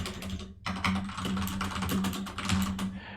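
Rapid keystrokes clatter on a computer keyboard in a quick, uneven burst of close, crisp clicks with a brief pause near the start and no talking.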